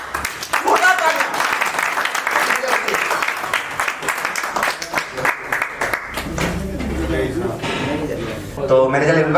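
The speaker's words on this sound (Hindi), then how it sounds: "जोरदार तालियां, जोरदार तालियां" Loud, rapid applause from an audience as managers walk onto the stage at an awards event, a dense clapping that thins out partway through, with someone talking over it.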